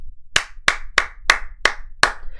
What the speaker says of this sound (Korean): 여러분들께 박수 쳐드리고 싶습니다.